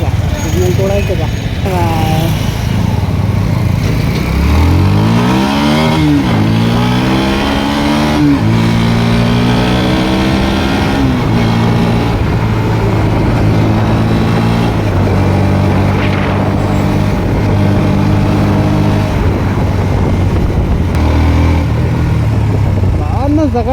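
A motor vehicle driving along an open, uncrowded road in the morning, with a steady close engine drone that rises and falls in pitch as it accelerates and shifts through gears, while a voice talks over it throughout.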